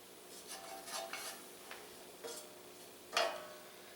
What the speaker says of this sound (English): So I just stirred up enough to get everything coated and my spoon's a mess